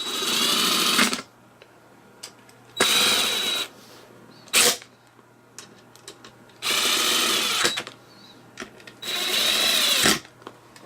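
Power tool whirring in four separate bursts of about a second each, with short pauses and a faint extra blip between, during a hard drive cooler install in a computer; close and fairly loud against a quiet hum.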